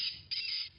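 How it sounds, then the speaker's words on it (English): A seagull gives two harsh, shrill squawks in quick succession, fairly loud and near, with faint low background noise. "The gull squawked louder"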